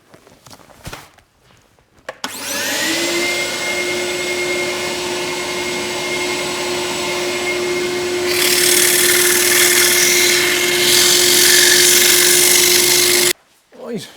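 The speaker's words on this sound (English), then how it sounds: "I'm just going to work the inside the same way as I did the outside with the sandpaper" A wood lathe spins with a steady motor whine while sandpaper rubs the inside of a wooden bowl, a loud hissing friction that grows rougher partway through before the machine cuts off abruptly.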